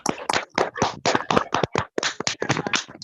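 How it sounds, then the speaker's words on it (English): Live applause for Dr. Baker at a Kiwanis club meeting, dense overlapping clapping from a group of hands, steady and fairly close for about three seconds with no talking. "give Dr. Baker a rousing Kiwanis round of applause"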